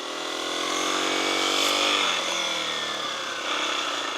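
A motorcycle engine revs up to a loud, rising drone as the rider pulls away, then drops back and settles into a steadier running note.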